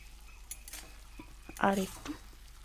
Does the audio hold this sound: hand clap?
no